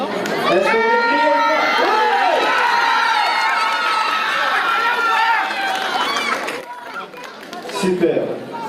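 An audience at an India fair cheers and shouts loudly, many voices yelling and whooping together in a sustained burst that tapers off near the end.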